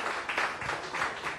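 An audience at a Hawaiian talk story event at Turtle Bay Resort for the Sunset Beach Pro 2015 breaks into brief, moderately loud applause, a short burst of many hands clapping.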